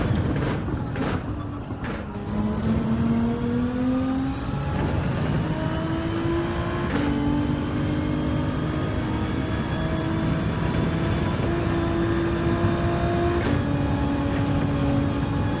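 Race car engine in Gran Turismo 7, droning steadily as it climbs through the revs, with the pitch rising in stepped sweeps between gear shifts, loud and continuous over road and wind noise.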